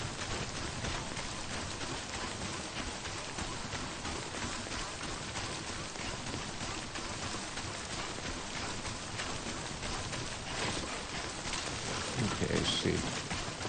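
Heavy rain in the video game Death Stranding hisses as a dense, steady wash of drops and patter, with a voice speaking over it.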